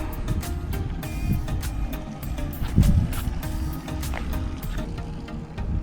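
Steady low rumble of a fishing boat motor with choppy water and wind noise, running continuously throughout, fairly close and moderately loud.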